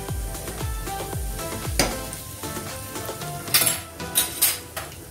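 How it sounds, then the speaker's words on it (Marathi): Cumin seeds and a pinch of asafoetida hit hot oil in a pan, giving a soft crackling sizzle broken by low thumps and clinks of a utensil against the pan, with brighter spits of frying toward the end. "तेल गरम झाले तर जिरे टाकायचे"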